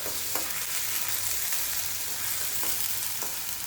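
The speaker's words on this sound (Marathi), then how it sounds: "त्यानंतर थोडासा कांदा व्यवस्थित असा परतून घ्यायचा आहे गुलाबीसर" Onion sautés in a pan for a bitter gourd (karela) curry, a continuous even sizzle with occasional soft clicks and scrapes of a spoon stirring.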